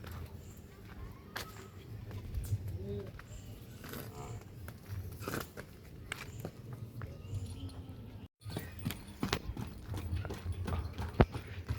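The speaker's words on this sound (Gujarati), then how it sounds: "આ ઘોડી આપણે લીધી" A mare walks slowly, her hooves clip-clopping in a steady rhythm close by, with a short gap partway through. A voice talks faintly under the footsteps.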